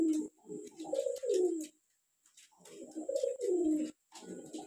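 A male wild pigeon coos nearby in two soft, rolling phrases of several throaty notes each, separated by a short pause, against a faint steady background hiss.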